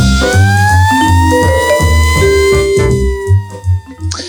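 A short siren-like sound effect with rising and falling tones, layered over a low rhythmic backing, loud and close, fading near the end.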